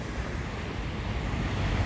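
Ocean waves wash steadily onto the shore, a broad rushing surf noise close by with some wind on the microphone and no one talking.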